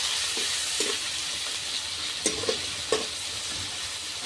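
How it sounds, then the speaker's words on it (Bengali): Onions fry in a pan with turmeric powder and salt, giving a steady soft sizzle with a few scraping stirs of a spoon, close up and with no talking. "এখন ভালো করে আমি হালকা ভেজে নেব।"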